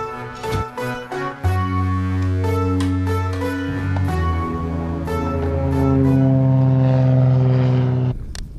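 A paramotor engine runs at an airport before a powered paraglider takeoff, a loud, close propeller drone with a brief stutter early on, then steady revving that rises and holds before cutting off at the end.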